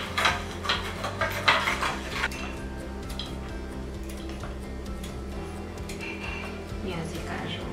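A spoon scrapes and clinks against a pot while sugar is stirred until it melts, giving a quick run of metallic taps that settle into a steady low hum, with a voice speaking over it.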